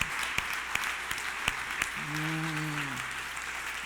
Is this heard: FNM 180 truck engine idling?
no